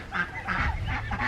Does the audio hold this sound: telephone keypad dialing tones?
no